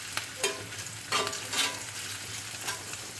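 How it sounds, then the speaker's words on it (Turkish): Turkish sucuk, salami and sausages sizzle in a hot pan, a steady crackling hiss broken by a few scraping stirs of a utensil, close by with no talking. "Sucuklarımız, salamlarımız, sosislerimizi kızartıyoruz arkadaşlarımız."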